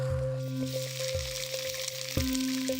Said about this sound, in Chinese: 鱼腩切块，下锅煎至两面金黄